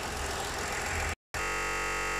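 A 2018 Ford Taurus 3.5L engine runs at a steady idle after a water pump replacement, a loud, even drone that cuts out briefly in the middle before resuming as a flatter hum.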